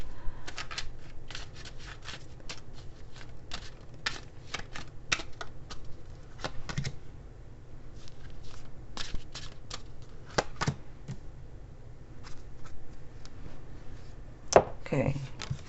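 Lenormand fortune-telling cards being shuffled during a tarot reading: a steady run of quick papery riffles and flicks, close and fairly quiet, with a sharper slap near the end.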